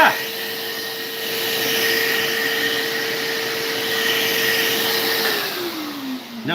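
A vacuum cleaner runs steadily, loud and close, sucking up debris after wood routing in a workshop, then its pitch falls as it powers down near the end.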